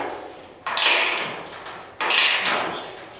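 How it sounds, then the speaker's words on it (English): Ratchet wrench cranked by hand to straighten a 1968 Chevy truck frame rail, heard as two loud broadband bursts of metallic clicking about a second and a half apart, each swelling then fading. "So all I'm going to do is just take my ratchet."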